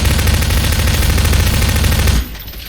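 Rapid automatic fire from a futuristic gun in Garry's Mod, a loud continuous rattling burst for about two seconds that cuts off abruptly, leaving a quieter tail.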